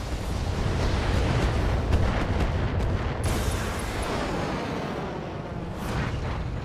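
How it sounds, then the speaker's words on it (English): A mech in BattleTech fires a full weapons salvo, a dense rumbling barrage of booms and blasts that rolls on for several seconds and then fades, with sharp crackles near the end. "Firing at full salvo."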